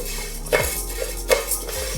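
Urad dal roasts in a pan with five unpeeled garlic cloves, and a utensil gives two sharp metallic clinks against the pan over a soft background hum.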